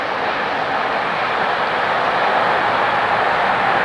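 A New York, Susquehanna & Western locomotive reverses down a runaround on the Utica branch, a steady broadband diesel rumble and rolling roar holding level and fairly close for the whole stretch, with no talk.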